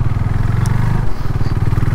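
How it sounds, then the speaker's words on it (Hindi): A super sport race-competition motorcycle climbing uphill on the Changla Pass road in Ladakh, its engine note droning steadily and close for the whole stretch, with a brief dip and rumble midway and no talk. "हमारे ईथन भाई हैं हमारे जो RC में, तो RC में काफ़ी हो रही डिफ़िकल्टी चलाने में, क्योंकि आपको पता है it's a race competition bike और सुपर स्पोर्ट बाइक है"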